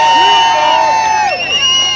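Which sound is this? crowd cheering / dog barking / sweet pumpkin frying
crowd cheering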